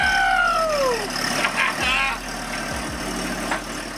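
Diesel engine of a Jeep idling while warming up, a steady low rumble running throughout, with a sliding high tone near the start and people speaking over it.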